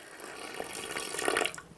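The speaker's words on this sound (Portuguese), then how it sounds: "aqui com mais 90 ml de água, ou seja, nós vamos para 810 ml de água nesse concreto" Water poured into a concrete mix of about 810 ml water, a soft continuous splashing and gurgling pour that lasts under two seconds, close and moderately quiet, with no talk.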